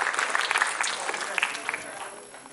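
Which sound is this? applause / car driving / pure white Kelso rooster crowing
applause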